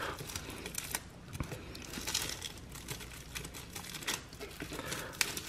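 Close crinkling and tearing of plastic wrap on a Banquet Mega Pizza, with irregular rustles and snips continuing steadily at a fairly quiet level.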